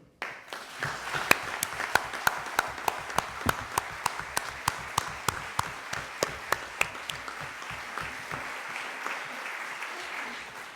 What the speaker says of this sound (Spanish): Son los aplausos de todos los que nos acompañan con Chema.